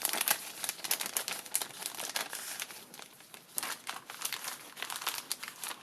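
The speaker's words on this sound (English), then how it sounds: "Put the ladybug die cuts into the envelope." Ladybug paper die cuts slide into a paper envelope, producing soft, close crinkling and rustling in quick irregular bursts throughout, with no voices.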